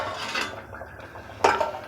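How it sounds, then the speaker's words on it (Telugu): Raw mango pieces dropped into a pot of simmering Nellore-style fish curry, heard as a couple of close metallic clanks of a spoon against the pot, the louder one near the end, with a faint wet plop between. "ఇప్పుడు మామిడికాయ వేసుకోవాలి."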